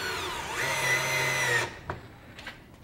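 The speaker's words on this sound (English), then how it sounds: "I'm just going to put 2 screws in to the workbench here to hold this down, and we'll do them diagonally." Power driver spinning a screw into a wooden workbench, a steady whirring drive for about a second and a half that stops abruptly, followed by a couple of faint clicks.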